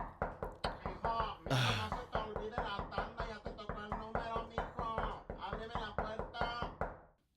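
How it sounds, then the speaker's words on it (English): Knocking on a door: a long, rapid, steady run of loud knocks that continues almost without pause, with voices talking over it. "They're knocking on the door."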